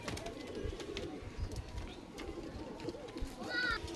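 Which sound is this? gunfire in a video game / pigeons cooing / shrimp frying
pigeons cooing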